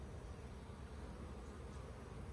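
Honey bees from a swarm-trap colony buzz steadily around an open hive box, a dense low hum that stays faint and continuous throughout.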